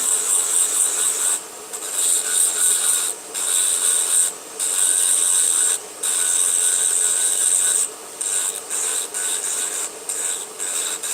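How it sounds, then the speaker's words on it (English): A high-pitched electric nail drill whirs and grinds as it buffs a fingernail in repeated passes, stopping briefly between strokes, close and steady. "I can take this, my hand drill, and I can just go over the smile line of the nail"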